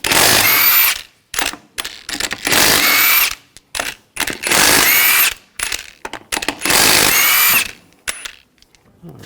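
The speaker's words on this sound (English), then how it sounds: "Using a 19mm socket, take the lug nuts off." An impact tool with a 19mm socket spins lug nuts off a Hummer H3 wheel in four loud whirring bursts, each about a second long, separated by short clicks and handling noise.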